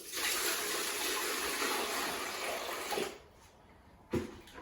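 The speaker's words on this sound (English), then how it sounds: "now we're going to pour some cold water, clean water into here." Clean cold water poured into the container of a Wagner Control Pro 150 airless paint sprayer, a steady rushing splash for about three seconds, then quieter with a brief sharp splash near the end.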